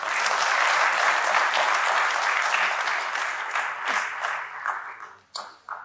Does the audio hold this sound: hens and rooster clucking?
no